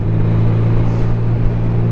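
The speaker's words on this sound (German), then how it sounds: "Ah, ich liebe das, mit Motorrad zu fahren." Steady low engine drone of a motorcycle while riding on a windy road, a constant close rumble with wind noise and no speech.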